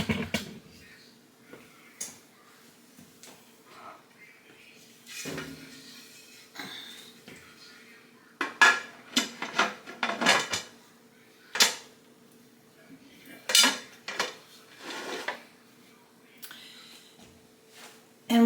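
A metal lid is set and fitted onto a pressure canner loaded with quart jars of potato soup. Scattered clanks and knocks sound near and moderately loud, with quiet stretches between bursts of handling.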